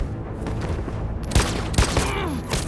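Gunfire in Detroit Become Human, a burst of loud sharp shots and booms over constant game background noise, several distinct heavy hits in the middle of the clip.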